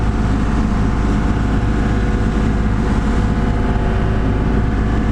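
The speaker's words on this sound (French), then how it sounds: "Impeccable ce moteur." A fishing boat's engine running at sea, a loud, steady droning rumble that holds evenly throughout without pauses.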